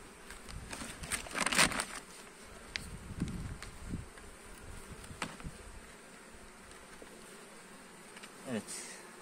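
Honeybees buzz at an open hive, a faint, close hum with individual bees droning past in louder swells, along with soft handling clatter and occasional quiet voices.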